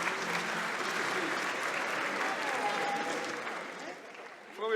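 Audience applause at a scholarship awards ceremony, sustained clapping from a sizable crowd filling the room, holding steady before dipping near the end.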